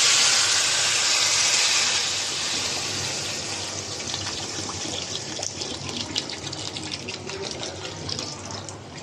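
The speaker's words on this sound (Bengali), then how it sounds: "তাই জলটা 750 দেবো" Water poured into a pot of 500 grams of rice, 750 ml in total, first a loud rushing stream for about two seconds, then quieter splashing and trickling as the pour eases off.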